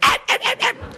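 A person's voice imitates a small Yorkshire terrier barking, giving four quick yappy barks in a row and then a short low grunt, loud and close.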